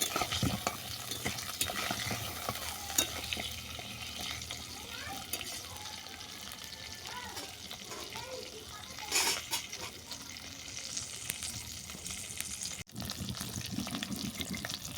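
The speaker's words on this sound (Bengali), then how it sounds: "আর দিলাম গুঁড়ো হলুদ পটলটাকে ভালো করে ভেজে নেবো" Pointed gourd (potol) frying with ground turmeric in a pan, a steady close sizzle with intermittent stirring scrapes and clinks, no talking.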